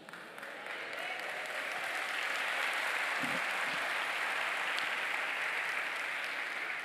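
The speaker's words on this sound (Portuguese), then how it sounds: "Esses aplausos" A church congregation at an eschatology seminar breaks into sustained, even applause, a broad distant wash of clapping building and holding steady.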